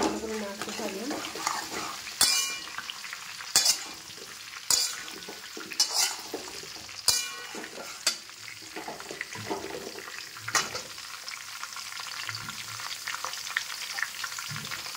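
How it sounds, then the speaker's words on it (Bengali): Pieces of sweet mango are stirred in a pan for pickle, with repeated sharp spatula scrapes and knocks against the pan over a low frying sizzle, close and fairly loud. "এরপর আমি অ্যাড করতে থাকবো, এটাকে ভালো করে নাড়তে থাকলাম।"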